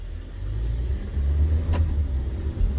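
A rebuilt Volkswagen Tiguan drives along with a deep, continuous engine and road rumble, rising slightly in strength partway through as it shifts gears after transmission trouble.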